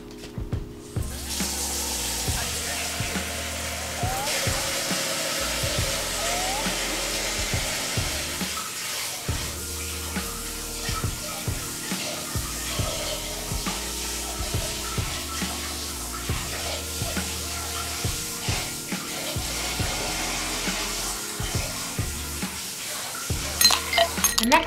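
Fresh ginger and turmeric roots are scrubbed and rinsed under a running tap, a steady stream of water splashing into the sink with occasional light clinks and handling noises throughout, fairly close and with no talking.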